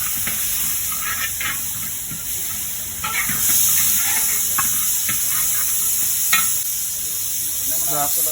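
Cutlets fry in coconut oil in a hotel kitchen, giving a steady, loud, close sizzle and hiss with occasional stirring and no talking.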